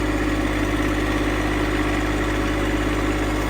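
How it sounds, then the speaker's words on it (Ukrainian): A tractor engine runs at a steady idle-like drone, ready to pull down a fallen tree in a forest clearing; the low, even rumble continues without change and no one speaks. "За допомогою трактора будемо зараз робити цю процедуру."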